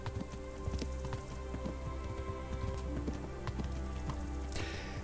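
Horse hooves clip-clopping in the medieval role-playing game Kingdom Come: Deliverance, a steady rhythmic patter of a single horse at a trot over a constant rain-like background hiss.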